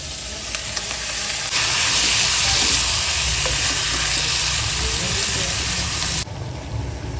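Beef hits a hot pan with garlic and breaks into a loud, sustained sizzle close up, a bright steamy hiss that holds for several seconds before cutting off abruptly.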